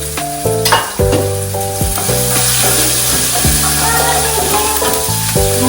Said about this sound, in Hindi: गार्लिक और चिली अच्छे से भून गई है, ब्राउन हो गई है